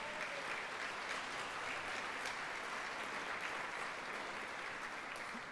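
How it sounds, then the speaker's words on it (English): Audience at a clean energy conference gives sustained applause for the conference staff, a steady, dense wash of clapping that holds evenly throughout without any talk. "So a big round of applause to the staff"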